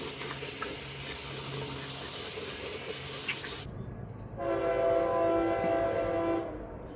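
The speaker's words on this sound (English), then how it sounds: "every time I start filming, that train decides it wants to show up" A train passes outside a garage workshop, a loud rushing roar that cuts off and gives way to a sustained horn-like blare before fading, with no talking.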